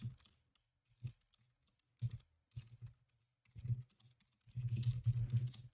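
Short bursts of typing on a nearby computer keyboard, separated by pauses, end in a longer run of rapid clicking.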